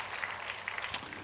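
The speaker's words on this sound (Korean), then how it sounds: "권사 성가대를 위해서 격려의 박수 한번 하겠습니다" A congregation claps for the women's choir of deaconesses at a Friday overnight worship service in a church, a soft, steady patter of hands over about a second with no voices on top.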